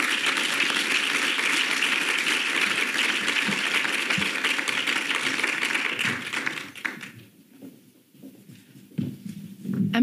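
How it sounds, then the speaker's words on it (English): Audience applause at the official opening of a World Federation event, a dense, steady round of clapping from a crowd that holds strong for about six seconds, then thins out and fades to scattered claps. "Let's give them a round of applause."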